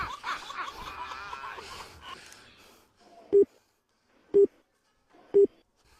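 A mobile phone call is dialed after a burst of chatter and laughter: three evenly spaced, clear electronic beeps follow about a second apart in otherwise quiet air.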